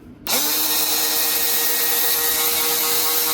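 A Granberg electric chainsaw sharpener spins up sharply and holds a steady, high whining grind against a chain tooth, close and continuous with no talking.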